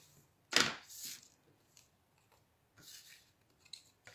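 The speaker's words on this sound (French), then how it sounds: "Je vais prendre le temps de marquer le pli comme il faut." Paper being creased along a fold line to make the base of a handmade slider card: a sharp close scraping stroke, then softer rubbing passes and light rustles, with no talking.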